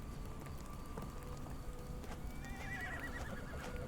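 A horse whinnies in Sherlock Holmes: The Awakened, a wavering neigh rising over soft hoof clops and a patter like rain, fairly close and with no talking over it.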